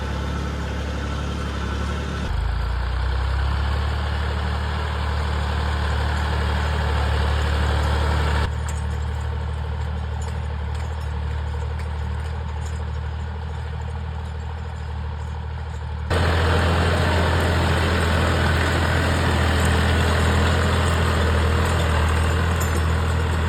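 A heavy diesel engine of a four-wheel-drive tractor sowing a field drones steadily throughout, its pitch and load shifting at a few points as it works, loud and close with no voices.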